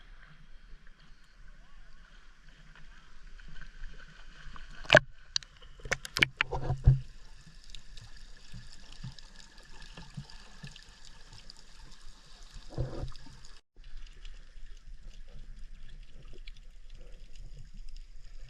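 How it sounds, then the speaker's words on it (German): Soft water sloshing and paddling sounds continue under a steady boat engine hum, with a few sharp knocks and splashes and occasional voices in the background, off Crete. "So, wir sind auf dem Boot. Auf dem Boot, auf dem schönen Wasser da."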